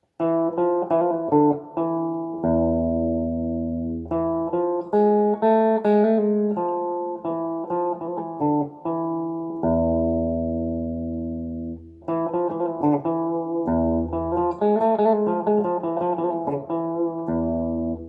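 A guitar plays a flowing Spanish-style lick of quick notes with smooth hammer-ons and pull-offs over low ringing bass notes, no voices.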